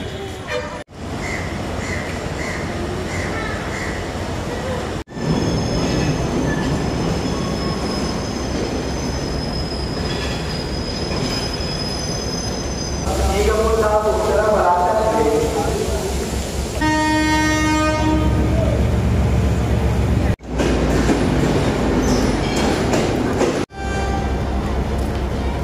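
A train in Sri Lanka rumbles steadily with clattering wheels and metallic squeals, then a horn-like tone sounds midway, with brief sharp clunks near the end.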